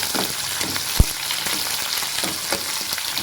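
Chopped onion fries in a pan with chilli, curry leaves and garlic, giving a steady, close sizzle throughout with one sharp utensil tap against the pan.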